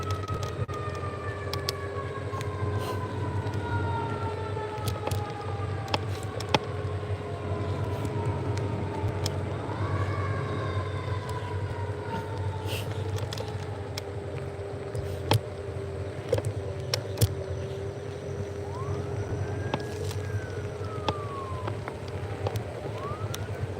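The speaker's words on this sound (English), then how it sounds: "I think that was the fire truck." A fire truck siren wails and sweeps in pitch as it passes at a moderate distance, over a constant low drone of traffic and a scooter ride in northeast Kettering.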